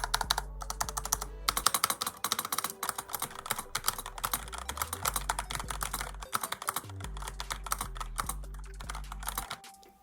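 Rapid, uneven typing on a stock wireless budget mechanical keyboard with a hollow case, giving close, crisp key clacks and occasional heavier spacebar thocks, with no talking.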